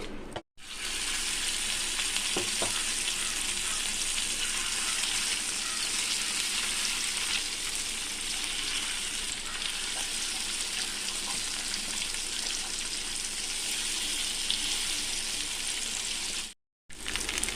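Fish fries in hot oil in a home kitchen, a loud, steady, close sizzle that runs unbroken for most of the stretch, cutting out briefly at the start and near the end.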